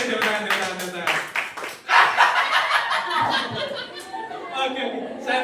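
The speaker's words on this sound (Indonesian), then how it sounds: "Wih, tepuk tangan." A class of children claps hands in quick, uneven bursts at close range, mixed with giggling and chatter, and the clapping grows louder midway.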